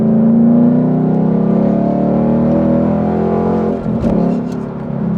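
A manual Ford Mustang with a straight-through exhaust accelerates in third gear, producing a loud, close, droning engine roar that holds steady, then briefly dips and recovers near the end.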